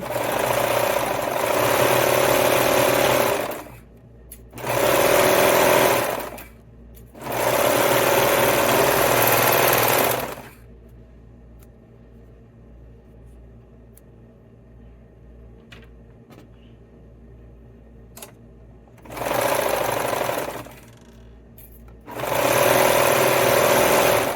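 A sewing machine runs green thread through a beanie's outer fabric in loud, steady bursts of rapid whirring, several runs of a few seconds each separated by quiet pauses with small handling clicks.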